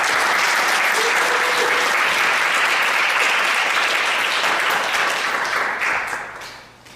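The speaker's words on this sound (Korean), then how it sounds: "목사님 앞으로 보실 때 큰 박수로 환영해 주시기 바랍니다." Church audience applauding to welcome a pastor to the front, a loud, dense wash of clapping that holds steady for several seconds before fading out at the end.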